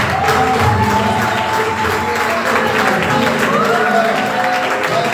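A church congregation at a revival meeting in Rabat, Morocco, cheering and applauding for orphans: steady, dense clapping and crowd noise throughout, loud and close, with voices mixed in.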